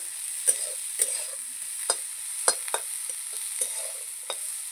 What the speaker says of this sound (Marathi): कांदा पण जरा लालसर होईपर्यंत आपल्याला भाजून घ्यायचं आहे